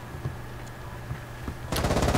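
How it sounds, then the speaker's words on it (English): Faint background hum gives way to a sudden burst of rapid gunfire near the end of Pandemic Express gameplay, loud and crackling, firing in quick succession. "I do hear the gunfire."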